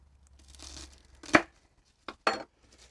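A knife slices through a garlic bulb on a board: a sharp crunching cut, then two quick follow-up crunches, close and clear with no talk.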